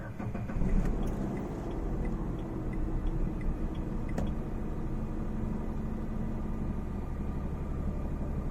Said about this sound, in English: that is how the 800cc 3-cylinder petrol engine sounds like on the Datsun Redi-Go